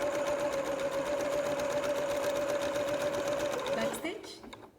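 A sewing machine backstitches a t-shirt in one continuous, close, steady hum of rapid stitching that winds down and stops near the end, and a voice is heard faintly under it.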